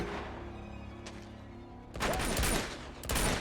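Gunfire in a third-person action video game: a quiet stretch, then a sudden burst of rapid shots with impacts and crashes, followed by another short volley near the end.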